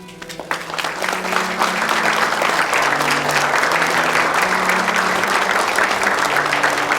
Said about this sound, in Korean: 우리 강 사장한테도 감사의 박수를 좀 부탁드립니다.